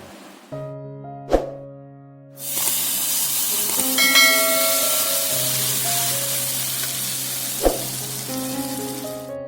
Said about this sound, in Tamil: நல்லா சுட சுட எண்ணெயை அப்படியே நம்ம மாங்காயோடு சேர்த்துக்கலாம்